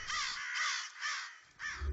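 Crow giving a series of four harsh, rasping caws in quick succession, each drawn out and fairly loud, with low rumbling background noise between calls.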